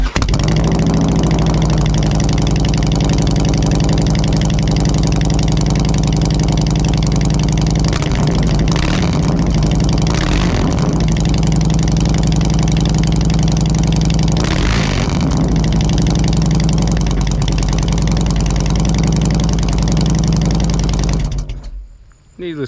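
A 2013 Harley Davidson Softail Deluxe motorcycle idles loudly and steadily up close with a deep, lumpy, throaty rumble that holds for about twenty seconds before cutting off abruptly.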